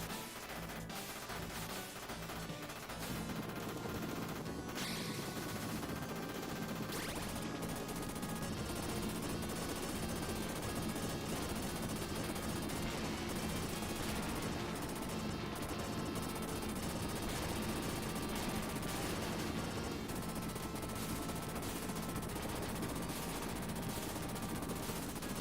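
Sustained machine-gun fire in a combat video game rattles on continuously, dense and loud, mixed with explosions and crashing battle noise throughout.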